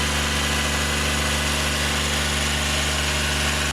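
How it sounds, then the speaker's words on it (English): Top dressing lawn machine spreading soil and compost, its engine running in a loud, steady, droning hum with a constant vibrating rumble and no pauses. "A top dressing lawn machine is capable of spreading soil and compost over an entire lawn"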